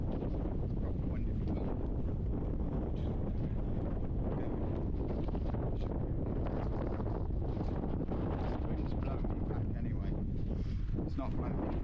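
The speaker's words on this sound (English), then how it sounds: "It's well windy though." Strong wind buffets the microphone throughout on an exposed hill walk along the Edale Skyline, a loud, continuous roar with gusty surges and no pause.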